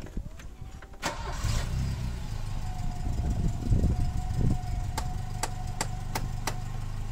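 A Saab car engine cranks briefly, catches and settles into a steady idle heard up close, with a few sharp clicks toward the end and no talking.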